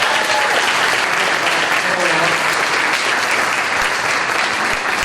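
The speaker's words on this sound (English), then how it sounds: "So let's give the parents a round of applause tonight" An audience at a senior awards night claps loudly and continuously, a dense, unbroken wash of applause throughout.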